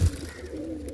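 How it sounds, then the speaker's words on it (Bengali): A pigeon gives a single low, soft coo close by, with no talking. "তার ভিতরে এই একটা পায়রা এসছে"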